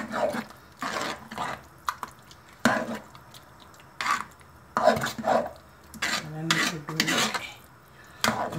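A spoon scrapes and clinks against a cooking pot while ndolè is stirred, giving a series of short metallic scrapes and taps at irregular intervals, close and moderately quiet, with some wet bubbling between strokes.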